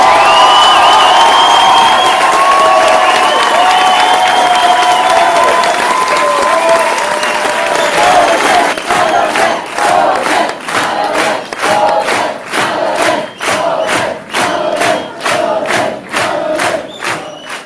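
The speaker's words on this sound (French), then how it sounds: "je veux qu'on les applaudisse très fort parce qu'ils sont là" A large crowd at a political rally claps and cheers loudly with shouts and whoops, and the applause settles into rhythmic, synchronized clapping partway through.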